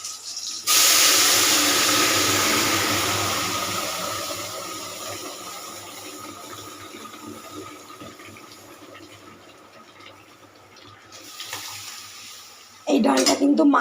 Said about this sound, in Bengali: দুটো কাঁচা লঙ্কা, এবার ডালটা ফোড়ন দিয়ে দেবো।